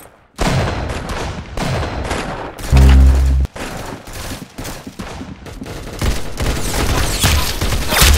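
Rapid gunfire from the Roblox game Arsenal crackles in dense bursts, with one heavy booming blast near the middle, loud and continuous against a busy game mix.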